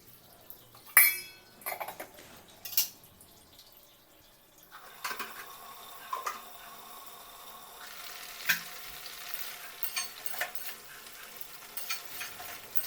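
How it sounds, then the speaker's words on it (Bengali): Water is poured onto eggs cooking in a pan, first bringing a few sharp utensil clinks, then a sudden burst of sizzling that settles into a soft, steady bubbling hiss with occasional taps. "কষানো হয়ে গেছে এবার আমি জল দিয়ে দিচ্ছি"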